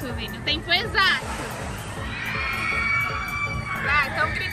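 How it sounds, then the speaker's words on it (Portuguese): A crowd of excited voices shouts and cheers in a dense, continuous roar of overlapping yelling with rising calls, close and loud throughout. "estão gritando pra você"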